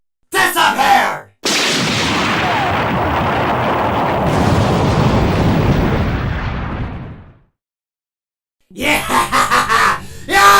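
A star fort blows up in one loud, sustained blast that rumbles and roars for about six seconds before fading into silence, with brief bursts of other sound just before and after it.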